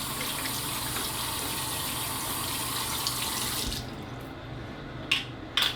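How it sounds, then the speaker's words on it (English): Tap water runs steadily into a sink as hands are rinsed beneath it, a close, continuous gush that stops partway through, followed by a few small clicks and splashes. "go ahead and just rinse my hands a bit."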